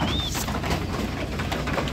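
A dove kept together with pigeons coos softly in a loft, a low, muffled call at moderate distance, with a brief thin bird chirp near the start over faint background noise.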